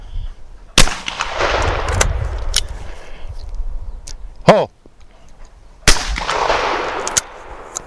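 Shotgun rounds fired at a trap shooting station: several sharp, loud blasts at irregular intervals, each trailing off into a long echoing decay, with a brief thin clatter between shots.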